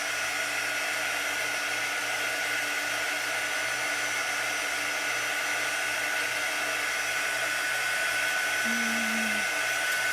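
A hair dryer blows continuously at close range, a loud, steady whooshing hum with a constant motor tone, drying chalk paste on a door decoration without pause.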